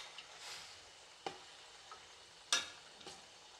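Prawns fry with spices in a pan for a prawn biryani, a faint soft sizzle broken by a few sharp scraping stirs, quiet and close.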